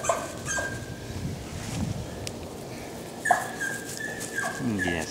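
A young puppy named Derby gives thin, wavering whimpers and a few yips outdoors on wet ground, with a person speaking nearby between the cries.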